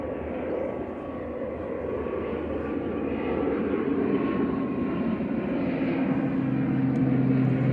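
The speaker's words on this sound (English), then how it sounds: "GCMMN departed. ATR 72600 over to Dublin with flight 3327 for Aer Lingus Regional." An Aer Lingus Regional ATR 72-600 turboprop departing Manchester Airport for Dublin: a steady, broad engine roar at moderate distance that builds slightly and sharpens into a droning tone toward the end.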